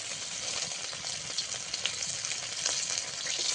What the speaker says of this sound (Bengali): এক এক করে ভেজে নেবো সব মাছ